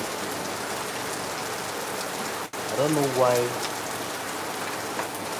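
Heavy rain falling in Lagos keeps up a steady hiss throughout, while someone speaks briefly over it midway.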